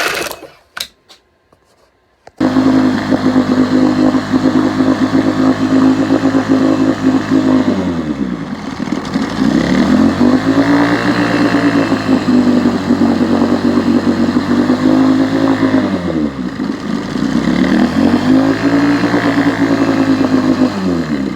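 A 1971 Johnson 9.5 HP outboard motor catches after a couple of brief pulls and runs loudly and steadily, its engine note dipping and recovering twice as it settles.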